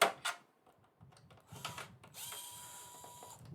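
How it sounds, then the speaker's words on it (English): Small quick drill backing screws out of a PlayStation 2 console (SCPH-50001) during a mod install, a few short clicks and bursts followed by a steadier, higher-pitched motor whir close by. "I'm going to use just a little quick drill here to pull the screws out"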